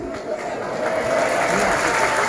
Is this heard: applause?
yes